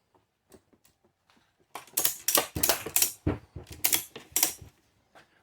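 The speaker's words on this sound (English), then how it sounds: "I grab a secondary ratchet strap. I bring it around. I actually hook it onto itself here. Okay? Now, I'm going to tighten this up a little bit." A ratchet strap being tightened on a truck topper clicks and rasps in short bursts, starting with faint scattered ticks, then several loud, close ratcheting pulls before a final soft click.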